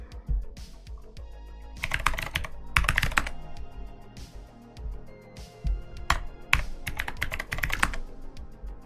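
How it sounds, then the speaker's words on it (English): Clicky bursts of typing on a stock mechanical keyboard fitted with spherical SA keycaps, coming in several quick clusters separated by short pauses, close and moderately loud. "It's a pretty solid stock keyboard."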